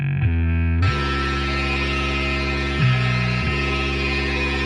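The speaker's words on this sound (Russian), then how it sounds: "К вступительному басу вскоре присоединяются гитарные рифы в стиле индастриал." Industrial-style guitar riff over a bass line from the Hotline Miami soundtrack, loud, heavily distorted sustained chords that shift pitch in blocky steps, with a thick low end and a dense, saturated buzz throughout.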